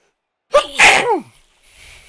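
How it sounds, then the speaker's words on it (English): A single loud, close human sneeze bursts out after a moment of silence, followed by faint breathy noise. "Turned out I did want to sneeze."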